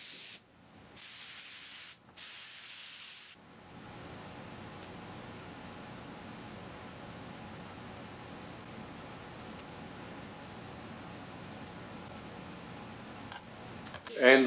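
Spray trim glue goes onto carpet wrapping a tray cover in a 1966 Triumph Spitfire MK2 restoration. Two short loud hissing bursts come first, then a long softer steady hiss, with a sharp clatter at the very end.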